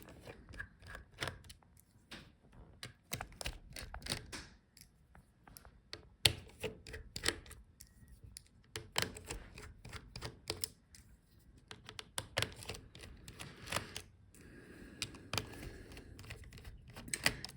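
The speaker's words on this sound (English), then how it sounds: "Okay, so let's take out all the screws." Screws are being removed from a Dell Inspiron 16 5640 laptop during disassembly, with a quiet stream of small clicks, ticks and scraping taps of the tool on screws and chassis. The ticks come in irregular close-up bursts, and nobody speaks.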